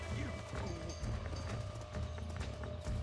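Hooves pound rapidly and continuously from a galloping horse in Red Dead Redemption on Nintendo Switch, close and loud against dense game background, with a voice heard at moments.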